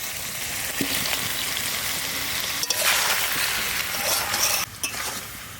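Steady frying sizzle in a pan of chicken with raw mango and kasundi as potatoes go in, with a couple of brief soft knocks or stirs over the continuous hiss.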